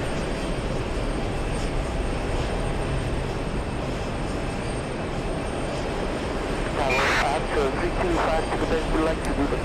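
An airliner in Boston Bruins livery arriving from Fort Lauderdale fills the air with a steady, loud engine roar that swells slightly toward the end, with a voice briefly audible.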